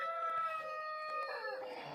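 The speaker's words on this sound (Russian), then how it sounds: "Так, и этот кукарекает." A rooster crows once in a long, drawn-out call at some distance in a farmyard, fairly faint, with a light wind-like hiss underneath.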